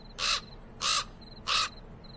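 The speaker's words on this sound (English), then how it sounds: "The raven flew out of a crack in the rock." Three loud, harsh raven caws from a video game, each about a third of a second and evenly spaced, with a faint high tone lingering between them and no talking.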